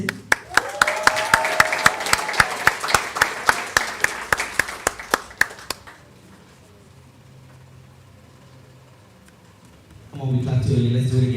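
Graduation ceremony audience applauding a graduate's name, a run of sharp, fairly close claps over a crowd roar that cuts off abruptly, followed by a quieter stretch and then a speaking voice.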